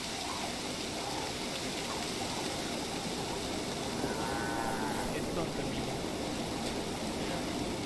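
Cattle low on a farm in Assassin's Creed Valhalla, a drawn-out moo rising midway over a steady wash of running water, with faint voices in the background.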